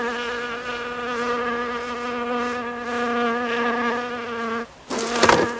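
Honey bees from opened hives drone in a dense, steady buzz close by, one insistent note with rich harmonics that breaks off abruptly near the end into a short burst of noise.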